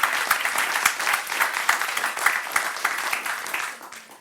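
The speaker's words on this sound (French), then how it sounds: "je pense qu'on peut les applaudir" An audience claps at a round-table talk on inclusive leadership: dense, steady applause that holds for about four seconds, then thins and fades at the end.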